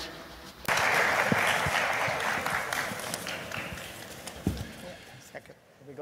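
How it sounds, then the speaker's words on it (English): Applause for a government minister breaks out at a diplomatic strategic dialogue forum, a sustained burst of clapping from an audience that gradually fades, with voices talking over it. "We should give a round of applause"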